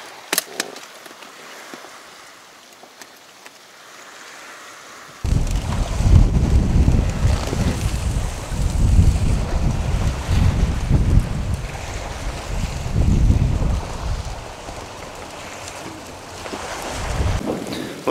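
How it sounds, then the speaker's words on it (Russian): Quiet at first, then strong wind roars across the microphone over the wash of choppy water waves while fishing in Astrakhan, loud and continuous. "ветер так раздувает потихоньку волну"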